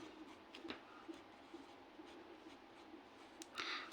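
Marker or chalk writing an equation on a board during a class 10 maths lesson, faint intermittent scratchy strokes in a quiet room, with a louder stroke near the end.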